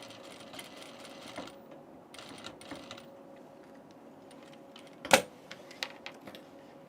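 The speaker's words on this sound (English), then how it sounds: "I'm going to sew the darts along the bottom of the sleeve first." A sewing machine stitches darts along the bottom of a tunic sleeve in short rattling bursts with pauses between, quiet and close, with a sharp click near the end.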